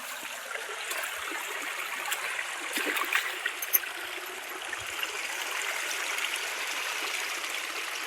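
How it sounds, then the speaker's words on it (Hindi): Water streams steadily in a soft, continuous rush and trickle, moderately close, with a few faint splashes rising above the flow. "ऊपर सुघर दिखत है ना पानी के धार।"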